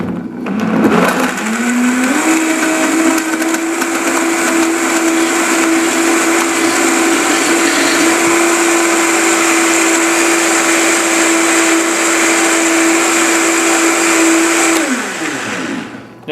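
A Vitamix 5200 blender blends a green smoothie with banana, ramping up quickly to a loud, steady high whir that holds for about twelve seconds before winding down.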